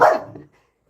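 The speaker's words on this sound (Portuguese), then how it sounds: "Opa, aqui tem cachorro, viu?" A dog gives a single short, loud bark close by, which fades quickly into silence.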